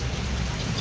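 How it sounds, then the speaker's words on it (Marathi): Heavy rain pours down steadily in a broadband hiss during a monsoon beach trip, with no breaks and no voices. "पाऊस जोरात आले अजून गाईज"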